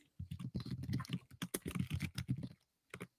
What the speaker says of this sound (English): your keyboard loud as hell